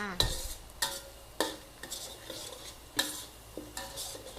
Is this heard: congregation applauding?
no